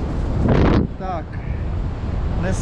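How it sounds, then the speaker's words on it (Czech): Southwest wind blustering across an open mountain slope in the Dolomites by a via ferrata, a steady loud roar with microphone buffeting and a brief voice-like tonal whistle partway through. "fouká opravdu takhle jihozápad a dneska takový občas silnější"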